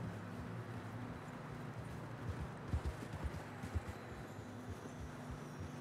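Horse hooves clip-clop steadily in the snowy Old West of Red Dead Redemption, the rhythmic thuds building over the last few seconds against a low, constant game ambience.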